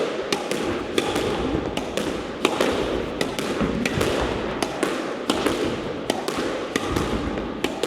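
Squash balls are struck low and hard against the wall in quick succession, a rapid series of sharp cracks and thuds echoing in a court with no voices.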